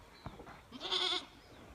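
A single goat bleats once, a strong nasal call of about half a second, after a small thump, with quiet background and no talking.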